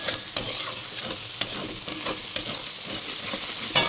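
A spice paste with coriander powder is stirred in a hot pan, a continuous close sizzle broken by regular scraping strokes and light knocks of the spoon.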